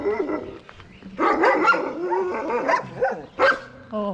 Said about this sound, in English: He's a spinning dog.